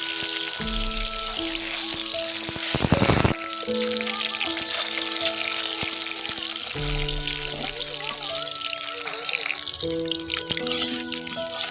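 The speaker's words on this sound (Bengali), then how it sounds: "ডিমগুলো আগে গড়াই নেব।" Eggs fry in oil on a clay stove in a village kitchen, giving a steady close sizzle and crackle with a brief louder spatter partway through, while tonal background music plays underneath.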